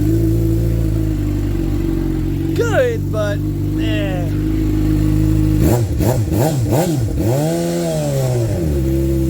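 A 2025 Suzuki GSX-R750 engine with catalytic converter and M4 GP19 slip-on exhaust idles with a deep, steady rumble, then revs sharply several times in a row in a cold shop; a voice speaks briefly over it.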